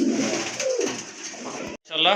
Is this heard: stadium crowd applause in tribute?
no